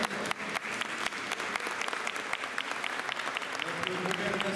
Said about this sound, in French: On peut l'applaudir aussi.